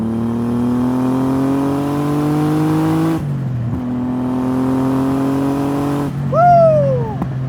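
An RB30-powered Nissan R33 Skyline, a 25-year-old Japanese car with a turbo, revs up loudly in two long climbing pulls, dropping off between them, followed by a brief sharp whoosh and chirp.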